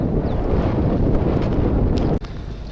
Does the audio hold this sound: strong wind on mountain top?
yes